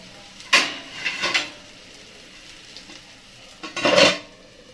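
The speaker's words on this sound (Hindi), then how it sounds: "इस तरीके से चलाते हुए मैं एक बार कढ़ाई को ढक देती हूँ" Bottle gourd is stirred in a kadhai with a few distinct scrapes and clanks of the spoon against the metal, and a final louder clatter comes as the lid goes on.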